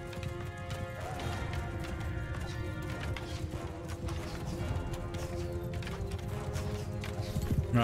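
Horse in a Game of Thrones video game: continuous galloping hoofbeats clatter under a busy game soundscape, with a possible whinny and scattered battle clashes.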